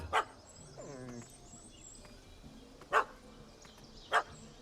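A dog barks in The Witcher 3, three sharp single barks spaced apart at moderate distance, with quieter whimpering and outdoor ambience between them.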